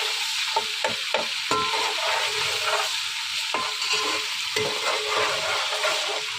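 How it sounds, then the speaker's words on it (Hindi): Garlic ginger paste, frozen, fries with light golden onions in a pan, giving a steady close sizzle broken by frequent scraping stirs and clinks of the spoon. "एक मिनट तक हम इसे फ्राई करेंगे।"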